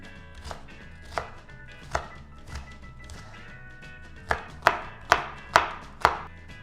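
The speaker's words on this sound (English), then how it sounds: "Traditionally in shepherd's pie, the carrots, the onions, and the celery are chopped really fine." Carrots chopped finely with a knife for a vegan shepherd's pie: crisp, close knife strikes, spaced irregularly at first, then a quicker run of louder chops near the end, with no talking.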